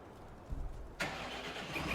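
An engine starts up in a farming video game, a sudden broadband roar kicking in midway after quieter mechanical rumble, then holding steady at a loud idle.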